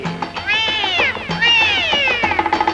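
A cat meows several times in drawn-out, rising and falling cries, close and loud, ending in a string of short chirpy mews.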